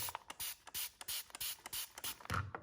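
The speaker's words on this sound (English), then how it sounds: "just get a spray bottle here" Rapid bursts of a spray bottle trigger misting a cup and glitter heat-transfer vinyl, a dozen or so quick hissing squirts in irregular rhythm, close and fairly loud.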